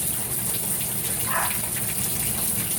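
Shower water gushes steadily over a scarlet macaw, a loud continuous spray hiss filling the whole clip, with a brief faint chirp-like sound from the bird partway through.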